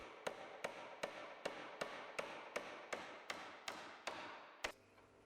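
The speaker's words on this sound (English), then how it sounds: "Secure the timber joists at both ends of the floor to the wall plates with galvanized roundhead" Galvanized roundhead nails driven into timber floor joists to fix them to wall plates: about a dozen steady, evenly spaced hammer blows, close and crisp, with one final harder strike and no talking.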